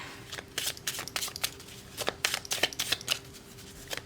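Cards being shuffled in quick riffling bursts, a series of crisp flutters separated by short pauses, close and clear with no talking.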